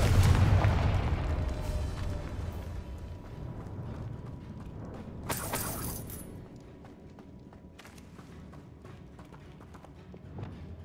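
The Confringo fire spell cast in Hogwarts Legacy on PS5: a sharp burst and whoosh, followed by low rumbling and mechanical clatter, then a fading resonance, set against dense ambient game sound.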